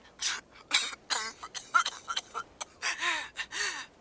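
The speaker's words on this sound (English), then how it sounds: "I start coughing again and can't stop shaking." A video game character gives a series of harsh coughs and gasping breaths, close and loud, coming in irregular bursts with short pauses between them.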